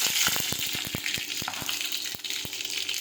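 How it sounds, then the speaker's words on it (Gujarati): Mustard seeds, cumin and dried chillies sizzle in hot oil, a steady loud hiss punctuated by quick pops and crackles of seeds bursting, close and continuous with no talking. "હવે તેમાં આપણે રાઈ અને જીરું નાખી દઈશું. સૂકા મરચાં નાખી દઈશું."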